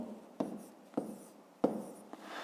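A pen writes numbers in a school maths exercise book, giving a few short, close scratchy strokes separated by brief pauses, with no voices.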